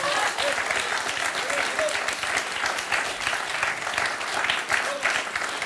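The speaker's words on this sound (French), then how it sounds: "Esprit très sportif d'Odile qu'on peut applaudir" A studio audience on a televised quiz show final applauds a contestant with steady, sustained clapping that fills the room throughout, while a voice talks faintly underneath.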